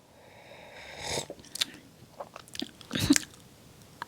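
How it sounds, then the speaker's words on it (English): Someone takes close, soft sips of rooibos tea with cocoa nibs. A breathy slurp is followed by small wet mouth sounds and swallowing, faint and intimate with no talking. "Let me try and take a little bit of a sip before we start."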